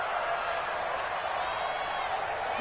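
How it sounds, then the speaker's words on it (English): A stadium crowd roars steadily at a Raiders–Chiefs football game ahead of a big third down, a broad, sustained wash of cheering with a voice talking over it. "the crowd getting into it as we come up on a big third down"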